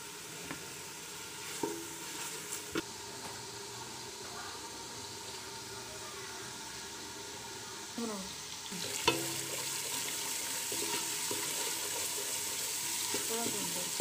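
Masala frying in a pan for an aloo gosht curry with desi chicken, a steady soft sizzle with scraping stir strokes, a louder clatter near the middle, no talk.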